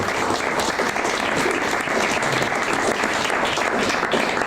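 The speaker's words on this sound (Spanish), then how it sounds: "no vamos a aplaudir más que al final" Sustained applause from an audience at a lecture on Lope de Vega, a dense and fairly loud wash of clapping that holds evenly throughout without voices.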